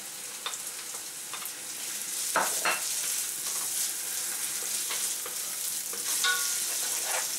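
Garlic and zucchini sizzle and crackle in a hot wok, a steady frying hiss broken by occasional sharp scrapes and clatters of stirring.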